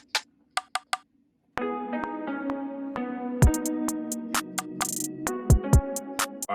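An open hi-hat joins a beat made of percussion hits: a few sparse ticks come first, then a dense loop with pitched layers, kicks and bright cymbal washes that repeat in a steady rhythm, with no one talking.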